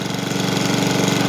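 A cold John Deere lawn mower engine, started on the first pull after five months unused, runs loud and steady with a throbbing, knocking idle that fills the moment up close before cutting off sharply at the end.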